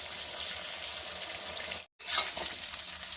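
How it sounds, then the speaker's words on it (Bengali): Jujube berries (kul) dropped into hot oil over low heat for a pickle sizzle with a steady, close hiss and a few crackling pops, broken by a brief moment of silence. "তেলে কুল দিলে কুল ফাটতে থাকে, তো আঁচ কমিয়ে দিয়ে কুলগুলি সাবধানে দেবেন।"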